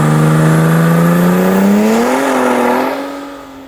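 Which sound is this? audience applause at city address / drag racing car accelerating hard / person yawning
drag racing car accelerating hard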